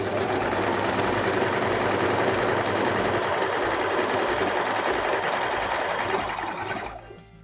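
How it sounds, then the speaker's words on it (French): A sewing machine runs steadily, overcasting two seam allowances together on a Deer and Doe Orchidée dress. The close, continuous whir holds for about six seconds, then fades out as the machine stops. "je les fais les deux ensemble. Je surfile ensemble."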